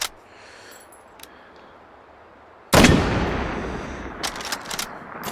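A single heavy sniper rifle shot, an L96/AWM-type bolt-action, booms in the VR shooting game H3VR after a quiet pause, followed by a long rolling echo and a few faint mechanical clicks.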